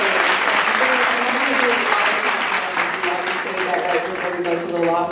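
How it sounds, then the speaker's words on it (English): A conference audience applauds the speakers at a legal panel event, with a full, steady roar of clapping throughout and some voices talking over it toward the end. "Would you all give a round of applause to all our speakers?"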